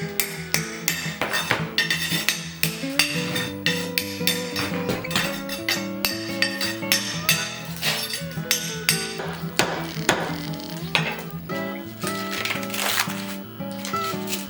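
A tool used as a pick scrapes layers of wallpaper off old plaster during a 100-year-old kitchen remodel. It makes repeated sharp scratchy strikes and clinks in an uneven rhythm, close by, with no talking.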